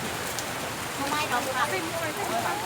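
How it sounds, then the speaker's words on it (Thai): Rain falls steadily at the Samet Nang Chee viewpoint in Phang Nga, a dense, even hiss of drops close around, with voices talking faintly underneath. "ฝนก็มาต้อนรับพอดีเลยครับผม มาพอดีเลยครับ ไปไปเร็วหาเข้าร่มก่อน"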